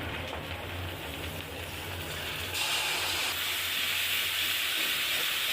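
Pointed gourd seed paste frying with cumin and coriander spices in a pan gives a steady, dense sizzle and hiss throughout, growing slightly brighter midway, with no talking.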